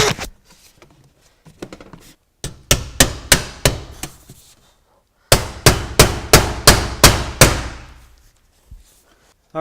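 Sharp hammer blows drive nails to fasten a steel ridge cap on a steel shingle roof, with a quick run of strikes, a pause, then a second rapid series, loud and close.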